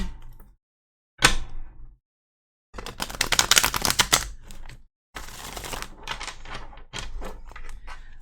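Bursts of papery riffling and shuffling of oracle cards, several separate rounds with short pauses between, close and crisp with no talking.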